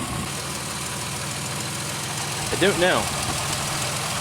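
A warmed-up Pontiac Aztek engine with a rich-condition fault idles roughly with a steady low rumble and faint uneven knocking, while someone briefly talks over it.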